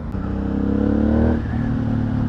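An Aprilia Shiver 900 four-cylinder motorcycle engine revs up smoothly, holds a rising pitch, then drops back to idle, close and loud.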